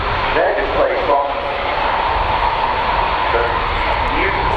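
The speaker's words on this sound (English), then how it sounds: "the beautiful historic aeroplane as taxied out on the north side" Historic aeroplane taxiing at an airshow, its engine a steady loud droning roar that holds throughout, with an announcer talking over it.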